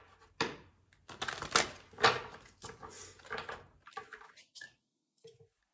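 Oracle cards being shuffled close up, a series of crisp riffling and slapping bursts with short pauses between them, ending in a few lighter taps.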